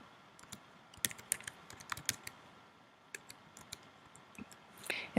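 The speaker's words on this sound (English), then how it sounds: "so I type the URL" A URL being typed on a computer keyboard, a quick irregular run of sharp close clicks in short bursts with brief pauses.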